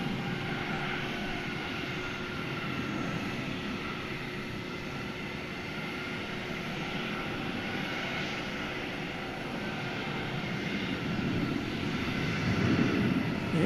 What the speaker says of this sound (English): a sight we don't get to see too often, a takeoff from 18 right